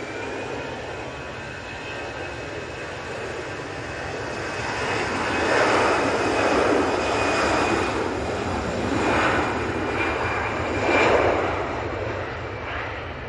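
An orange easyJet jet airliner departs Manchester Airport bound for Amsterdam, its engine roar building to a loud, sustained rumble and whine that swells and wavers.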